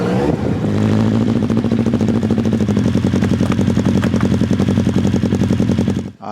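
A Formula Konig race car on a short shakedown drive gives a loud, steady, rapid engine buzz with a harsh, pulsing rattle that holds for several seconds before cutting off abruptly.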